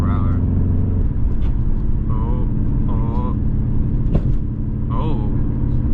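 Cabin noise from a Subaru WRX at roughly 65 mph: a loud, steady low road rumble with tire drone, while people talk over it inside the car.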